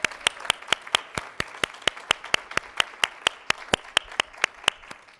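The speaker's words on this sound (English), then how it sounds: "Let's just give Nadya one more round of applause." Rhythmic clapping at a business forum, a steady run of evenly spaced sharp claps at close range with a faint crowd bed underneath, sustained for several seconds.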